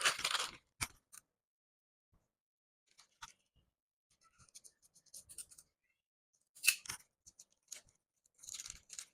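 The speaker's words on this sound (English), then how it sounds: "So I'll cut this dart and close it back." Scissors snip through dress fabric to open a dart while sewing a button-up halter neck dress. Short, sparse cuts come in small clusters with quiet pauses between them, close by and fairly faint, with no talking.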